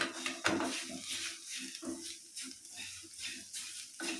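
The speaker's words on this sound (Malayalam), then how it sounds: "കുറച്ച് നാളികേര ആഡ് ചെയ്യുന്നുണ്ട് നല്ല പോലെ ഒന്ന് ഇളക്കി കൊടുക്കാം" Grated coconut is stirred into a masala in a pan for a leftover chapati dish, heard as rhythmic scraping strokes of a spoon against metal, close and moderately loud, with faint clinks between strokes.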